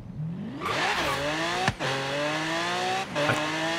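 A 2017 Nissan GT-R in Forza Horizon 3 revs hard, its engine note climbing through the gears in loud, continuous rising whines with short breaks at the shifts.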